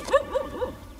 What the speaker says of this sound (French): il y a aussi des chiens